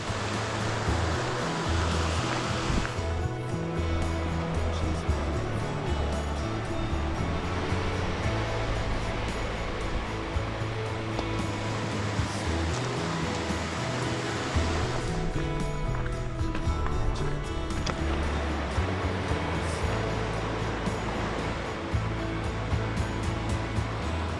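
Mountain river water flows steadily past a gorge below Zugspitze, a broad, continuous rushing wash heard close, with no voices.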